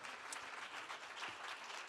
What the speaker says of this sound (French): Alors, vous pouvez applaudir.